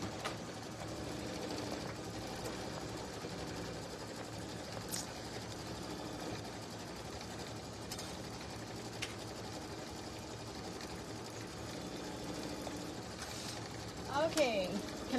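A sewing machine runs steadily for about fifteen seconds as a low mechanical whir, with a few clicks and a short louder burst near the end, while people talk over it.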